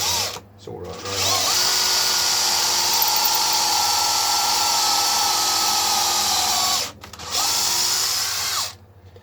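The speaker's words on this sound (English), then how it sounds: "I can drill the 3/16 hole" A power drill bores a 3/16-inch hole into a late-'60s-style Strat guitar body, whining loudly and steadily at close range, with a short stop partway through and brief quiet gaps at the start and end.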